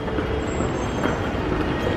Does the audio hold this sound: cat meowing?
no